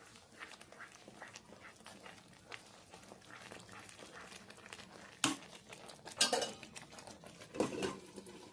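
Spoon stirring coriander powder and spices into fish curry in a pan, quiet scraping and clinks of metal against the pan with a few sharper knocks near the end, close and without talk.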